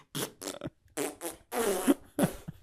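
A voice mimics a string of angry, ranty farts, several short blurts and sputters with brief pauses between them, delivered close and fairly loud.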